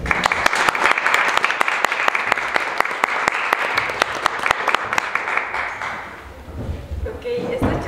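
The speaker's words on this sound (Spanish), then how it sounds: "Por favor, recibámoslos con un fuerte aplauso." An audience at a creative talk breaks into strong applause, dense even clapping that holds for about six seconds and then fades as a voice begins speaking.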